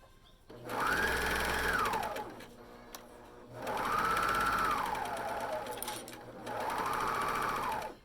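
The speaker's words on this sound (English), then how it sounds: "I'm going to start sewing the hood here" A sewing machine stitches a hood onto a Candy Pocket Tee, running in three steady bursts of even, whirring stitches separated by short pauses.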